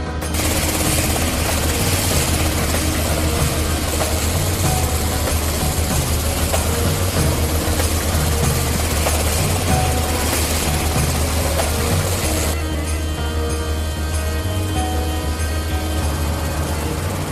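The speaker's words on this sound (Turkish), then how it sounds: "Abi, helikopter yanımızda" A police helicopter close by, its loud, continuous rotor and engine roar filling the whole stretch, steady throughout with no voices.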